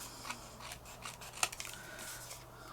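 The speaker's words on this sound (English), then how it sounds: "I'm just gonna trim around that" Scissors snip around a paper birthday notecard cut from a 12x12 paper pad, a few quiet, scattered cuts with a sharper snip midway, faint and close with a low steady hum beneath.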